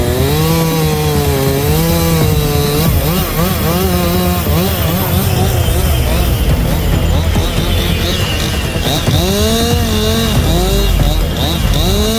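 A chainsaw cutting through a giant tree in a tricky spot, its loud engine whine rising and falling continuously through the cut, with a voice talking over it.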